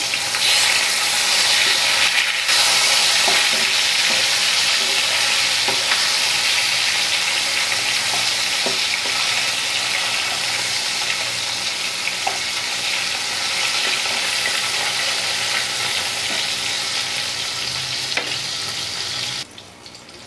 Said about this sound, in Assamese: মাছখিনিত এটা চাইড হৈ গৈছে, এতিয়া উল্টাই দিছোঁ মাছখিনি।